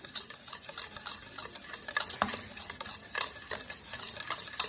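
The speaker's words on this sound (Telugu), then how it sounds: "మీరు వేసిన ఇంగ్రీడియంట్స్ అన్నీ కూడా మంచిగా మిక్స్ అవ్వాలి." Soap ingredients being stirred in a bowl, a close, continuous scraping and swishing with rhythmic strokes and soft clinks, no talking.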